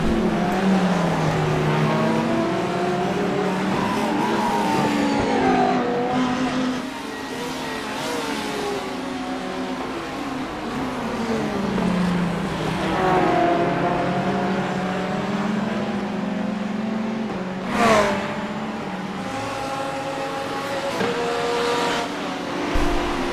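GT3 race cars in a racing video game: steady, loud engine drone with rising and falling revs as cars accelerate and shift, one car's pitch sweeping past, continuous throughout with no talk.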